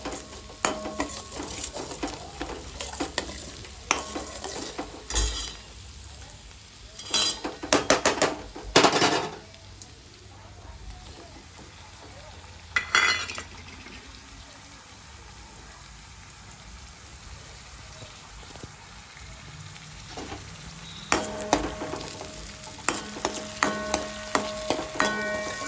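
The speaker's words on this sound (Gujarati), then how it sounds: "તો આપણે ડુંગળી લાલ થઈ ગઈ છે અને હવે ટમેટું નાખી દઈએ આમાં." Reddened onions with freshly added tomato fry in a pan for a chickpea (chana) curry, with a steady sizzle beneath clattering bursts of a spoon stirring and scraping against the metal pan, close and fairly loud.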